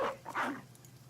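A dog in the video game Battle Brothers gives a single short, faint bark lasting about a second.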